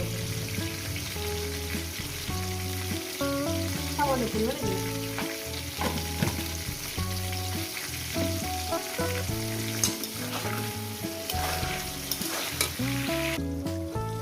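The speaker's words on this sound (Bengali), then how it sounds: "আলুটাকে এমন করে ভাজবেন যাতে ভাজার মধ্যে সিদ্ধ হয়ে যায়" Potatoes fry in oil with turmeric in a pan for a vegetarian potato dish. A steady crackling sizzle runs throughout, with repeated stirring clinks and a voice speaking briefly underneath.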